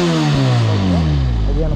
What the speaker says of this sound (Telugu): అది అన్నమాట ఎగ్జాస్ట్ నోట్